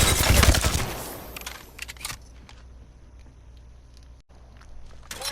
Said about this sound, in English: Now you can stick the target and let them explode.